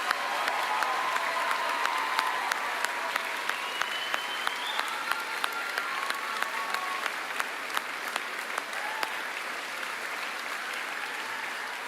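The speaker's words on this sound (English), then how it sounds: "One final round of applause." Audience applause fills a hall at a national championship showcase, steady sustained clapping from a crowd with a few faint cheers, continuous for the whole stretch.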